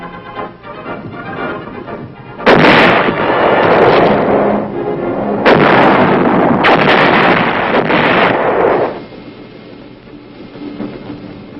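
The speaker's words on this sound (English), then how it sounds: "the 175s reliably deliver shells with pinpoint accuracy on targets over 10 miles away" 175 mm self-propelled guns fire artillery shells at the Aberdeen proving ground, with several loud, close booming blasts whose rumbling echoes overlap and roll on between shots before dying away.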